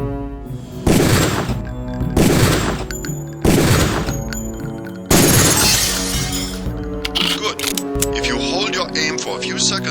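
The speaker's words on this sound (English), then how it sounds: "Release the first target and take a few shots with one of the pistols until it is destroyed." Pistol shots at training targets in Deus Ex ring out as four sharp, loud reports spaced a second or two apart, each followed by a shattering, ringing decay, with a narrator's voice running underneath.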